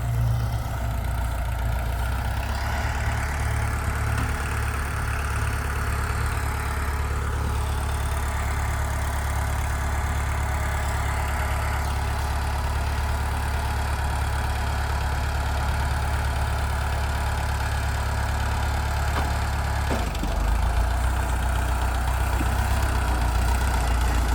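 A Kubota L2602DT tractor's 26 hp four-cylinder diesel engine runs steadily up close, a loud constant low rumble with a brief dip near the end and no talk.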